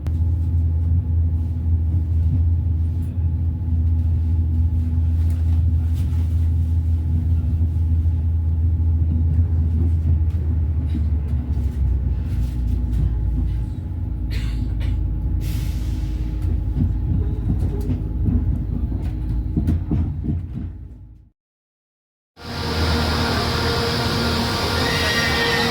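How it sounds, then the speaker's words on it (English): A Chiltern train pulls out of a station on the Camp Hill Line near Birmingham, a steady loud low rumble and engine drone that runs on for about twenty seconds, then cuts to near silence before a brighter burst of station noise. "So I'm gonna watch this train depart"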